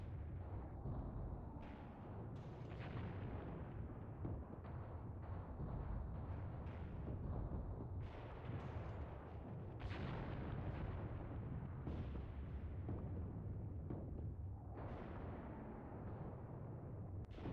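Continuous booming artillery, explosions and gunfire from the WW2 armored warfare game Mius Front, loud and dense throughout with layered distant and nearer blasts.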